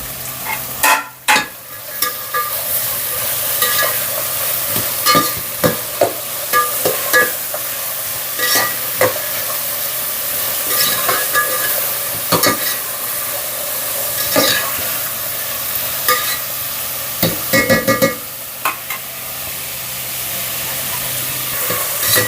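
Bell pepper, carrot and tomato frying with onion in a pan, stirred steadily: a continuous sizzle with scraping spoon strokes and clinks repeating irregularly throughout, fairly close and with no talk over it.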